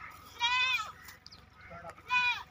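A Makhi Cheeni goat on a goat farm gives two clear, nasal bleats about two seconds apart, close to the listener, with quiet farmyard background between them.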